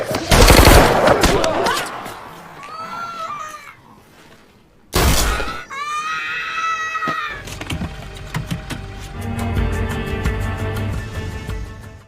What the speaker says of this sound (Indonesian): Dari situ mereka berdua pun terlibat baku tembak-menembak.